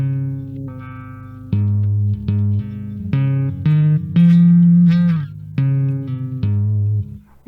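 Bass guitar played with repeated plucked notes while the tone knob is swept, giving a wah-like change in brightness across a steady series of loud, close notes with no talking.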